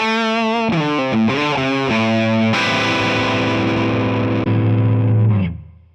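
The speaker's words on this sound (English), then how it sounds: "Let's get higher gain with the other EF86 preamp tube." Electric guitar played with high gain through a Tonex pedal modelling an amp with an EF86 preamp tube, G12 T75 speaker and top boost channel: a few distorted picked notes, then a thick sustained chord ringing out loud before cutting off.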